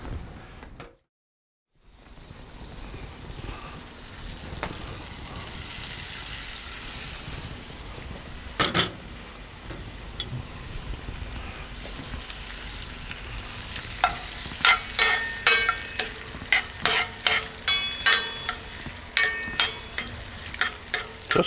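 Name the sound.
crab sizzling on a Monument Grills Mesa 400 gas grill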